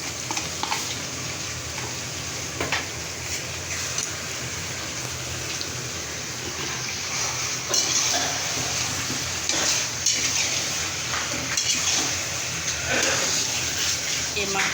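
Onion and garlic fry in a pan for a meat dish, giving a continuous, dense sizzle with scattered spattering crackles that stays fairly loud and even throughout.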